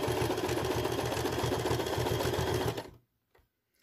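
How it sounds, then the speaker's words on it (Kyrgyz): A sewing machine runs fast and steady while finishing a row seam on a patchwork piece with brown fabric. Its rapid, even stitching rhythm is close and loud, then stops abruptly and leaves near silence. "Мына мен 3-чү катардын акыркы тигишин тигип атамын."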